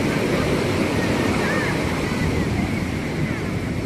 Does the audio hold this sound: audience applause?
no